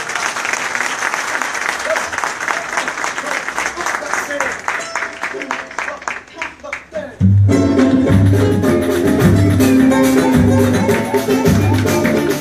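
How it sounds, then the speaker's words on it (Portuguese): Audience applause at a Brazilian poetry CD launch, dense clapping for about seven seconds, then giving way abruptly to loud music with a strong low beat. "vamos aplaudir o senhor?"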